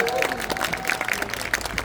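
Audience applause at an outdoor ceremony marking the 39th anniversary of the June 10 Democratic Uprising in Daejeon, a dense, steady patter of many hands filling the space, with a voice speaking faintly underneath.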